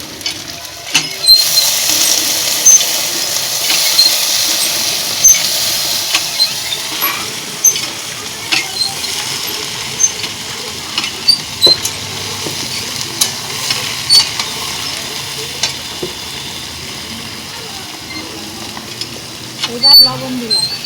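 Taro stolons tipped into a hot pan of oil already frying with chillies, nigella seeds and garlic give a steady close sizzle, broken by scraping and clinking as they are stirred.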